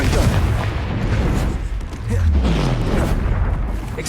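Spell impacts in a Harry Potter video game, Flipendo and Expelliarmus casts landing as dense rumbling booms and blasts one after another, loud and close, with a voice nearby.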